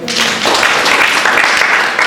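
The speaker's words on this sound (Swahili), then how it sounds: "Asante, tupige makofi" Dense, loud applause from a gathered audience at a church conference session, a continuous burst of many clapping hands lasting a couple of seconds.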